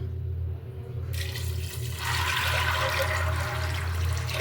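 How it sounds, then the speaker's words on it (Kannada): Water pours from a tap into a pressure cooker holding soaked chickpeas, a continuous splashing rush that grows fuller and brighter halfway through, over a steady low hum. "ಈಗ ನೀರು ಹಾಕ್ಕೊಳ್ಳೋಣ"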